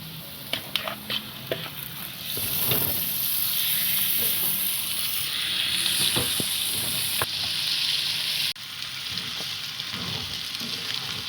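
Marinated prawns hitting hot oil with curry leaves and garlic, sharp sizzling bursts and spatula scrapes early, then a steady loud hiss of frying, close up with no talking.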